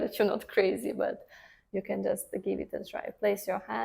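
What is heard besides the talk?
None of the usual background noises is heard.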